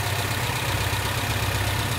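A 1998 Renault Clio RT 1.6 engine idling steadily, a close, even low rumble with a regular pulse and no voices.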